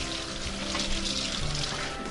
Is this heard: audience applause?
no